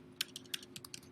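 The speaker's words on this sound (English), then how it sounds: "I can begin typing as I'm talking to my students" Quick, light clicks of a computer keyboard being typed into a Word document, about ten irregular keystrokes in a second, faint and close over a low hum, with no voices.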